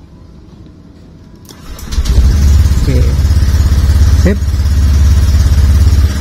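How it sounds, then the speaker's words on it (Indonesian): A motorcycle engine being started after an ECU remap done with a phone and an Hdiag Pro device, with a quiet lead-in, then a crank and a catch into a loud, close, steady idle as a voice speaks briefly. "Sekarang kita nyalakan motor untuk testingnya."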